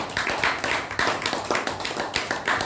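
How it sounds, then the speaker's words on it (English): Applause fills a Toastmasters club meeting room, a small group clapping steadily and close by in uneven bursts of overlapping claps. "let's give a very big round of applause to Toastmaster Habib"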